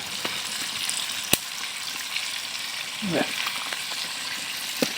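Broiler chicken meat sizzles and fries in a pan, with a steady crackling hiss broken by a few sharp clinks of stirring, close and moderately loud.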